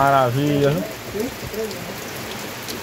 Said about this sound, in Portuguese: Muita chuva aqui, viu? Começou já tem uns 10 minutos, já tá chovendo.